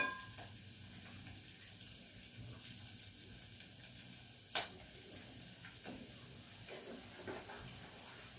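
Onions frying in a pan give a faint, steady, low sizzle throughout, with a few soft ticks and one sharper click near the middle, heard at a distance.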